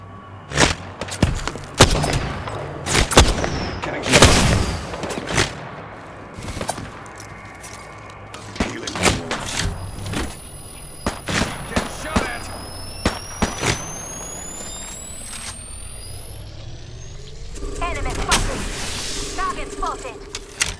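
Gunfire in the Apex Legends video game: loud, close bursts and single cracking shots mixed with thuds and impacts over about twenty seconds, with in-game voice lines speaking between the volleys.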